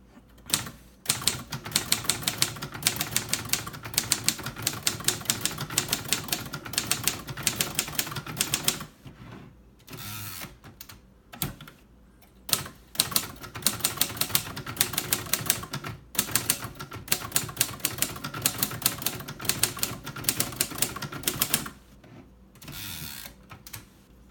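Typing on a 1955 Royal Quiet Deluxe typewriter in charcoal gray: fast, close clacking keystrokes in long runs, broken by short pauses and carriage returns, loud and alone without talk.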